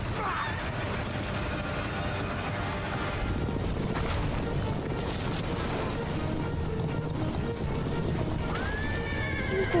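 Horses neigh and whinny in a cutscene from the video game Assassin's Creed Revelations, over hooves and clattering action sounds and booms, with a clear whinny near the end.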